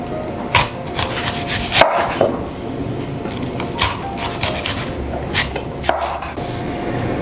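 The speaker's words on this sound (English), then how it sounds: "Slice the onion" A knife slicing through half a white onion on a cutting board, a steady run of soft rubbing cuts with a few sharper taps, close and fairly loud with no talking.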